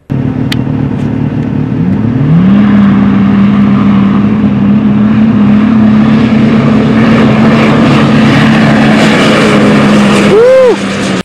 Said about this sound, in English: For this next run, we swapped out the tires and we came back without passengers and we lined it up, ran in two-wheel drive.